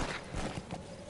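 Horse hooves in Metal Gear Solid V beat a quick, close clip-clop at a gallop over a brief moment.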